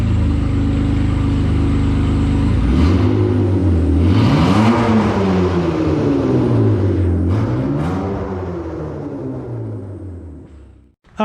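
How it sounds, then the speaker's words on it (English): A car fitted with a new exhaust is revved several times, its loud, close rumble rising and falling in repeated swells before settling and cutting off near the end. "Rev her up a little bit."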